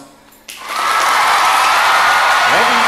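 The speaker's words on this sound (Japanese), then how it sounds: "どうぞ皆様の盛大な拍手を持って迎えたいと思います" Concert audience applauding to welcome a band onstage in Japan, a dense, loud wash of clapping that swells in abruptly after a quiet moment and holds steady, with a brief voice near the end.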